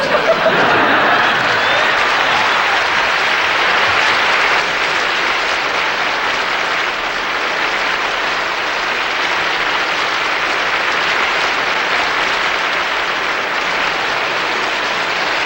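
Sustained, loud applause from a studio audience at a televised celebrity roast, steady clapping with a few chuckles mixed in, filling the room from start to finish.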